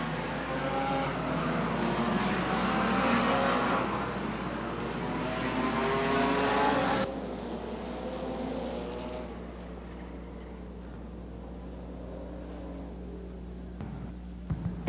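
Stock cars roar past at the finish of a 1990 Bud Stocks race at the CNE, a steady loud engine drone that swells and then eases into a fainter, more distant rumble.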